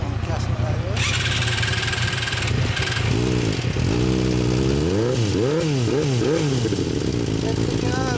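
Kawasaki Z1000S motorcycle fitted with a Vance & Hines exhaust, revving loudly up and down in repeated swells over a steady idle, with people talking nearby.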